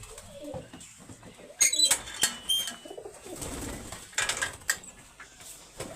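Racing pigeons of a prized Punjab breed coo in soft, repeated bursts, with rustles and sharper calls mixed in, fairly close and moderately loud, with no talk over them.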